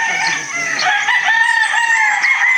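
Gamefowl roosters crow at a game farm, several overlapping calls ringing out loud and continuous with faint clucking among them and no talk.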